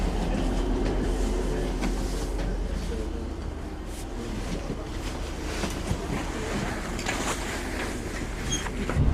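Train arriving at a crowded platform and riding at rush hour, with a continuous low rumble and rushing noise, occasional clanks and rattles, and faint background voices.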